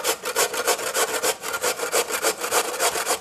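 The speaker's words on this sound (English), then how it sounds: "I'm going to shred the potato on this side" A raw potato is shredded on a box grater, giving loud, close rasping strokes. The strokes come in a quick, steady back-and-forth rhythm, about four per second, with no talk over them.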